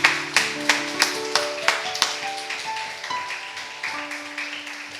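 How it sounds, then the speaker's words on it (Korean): Church congregation clapping during a Sunday worship service, a handful of distinct hand claps in a steady rhythm that soon blur into a softer, continuous patter, moderately close. "박수 한번 주시기 바랍니다."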